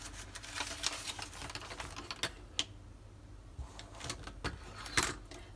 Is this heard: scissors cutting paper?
yes